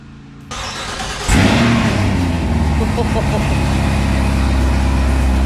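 A large diesel truck engine, unrun for five days, cranks and fires up with a sudden loud burst, then settles into a heavy, rumbling idle close by.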